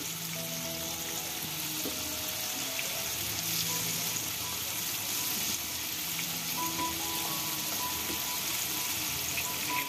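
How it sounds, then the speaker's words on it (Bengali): Chicken pakoda pieces fry in hot oil, a constant close sizzle and crackle running steadily throughout while a faint tonal hum sits underneath. "চিকেনগুলোকে আমি ঘুরিয়ে দিচ্ছি।"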